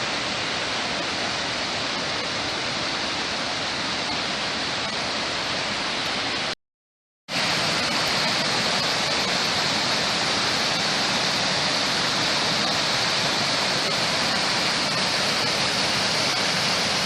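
A small stream rushes steadily, a loud, continuous watery roar heard close up along a path back to a car, briefly cut to silence partway through before resuming.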